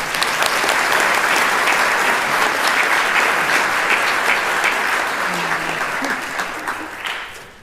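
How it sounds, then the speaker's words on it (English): A graduation pinning ceremony audience gives a sustained round of applause for a speaker coming to the podium, dense and loud throughout and tapering slightly at the end. "Join me in giving her a round of applause as she comes to the podium to discuss the history of the pin."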